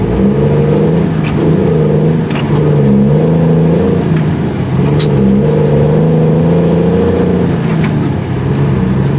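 A loaded super dump truck accelerates on a highway, its heavy engine a loud, steady drone with rising tones, heard from inside the cab throughout.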